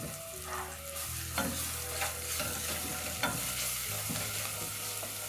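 Chopped onion and garlic fry and sizzle in a pan while a utensil stirs them, with steady scraping through a constant close crackle. Soft tonal background music plays underneath.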